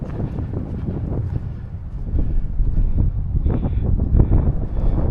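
Wind buffets the microphone on an exposed ridge section of the Standing Stone Trail, a steady low rumbling roar that swells louder after the first couple of seconds, with no talking.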